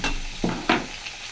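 Ginger-cumin-chili paste with black pepper sautés in a pan over a gas flame: a brief crackling sizzle with two quick bursts of stirring scrapes, loud and close.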